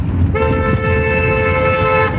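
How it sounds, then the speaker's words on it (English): A car horn blares in one long, continuous honk over the steady rumble of road traffic. "That person over there just honked at a bus stopping for a pedestrian"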